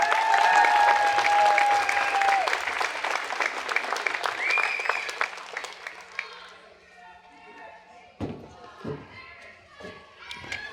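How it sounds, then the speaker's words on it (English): Loud crowd applause and cheering at a March for Life rally in Brisbane, dense for about six seconds, then thinning into scattered claps and thumps as the noise fades. "let us honour him with a big round of applause."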